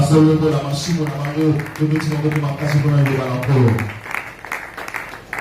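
A church congregation applauds during a sermon, with loud voices calling out over the first part before the clapping continues alone as a steady, dense wash.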